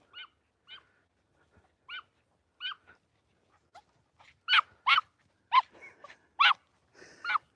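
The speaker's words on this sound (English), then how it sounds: "So Juno's bark has got a bit more high pitch." Eight small dogs out on a walk in Scotland bark in sharp, high-pitched yaps, a few spaced barks at first and then quicker, louder bursts close by.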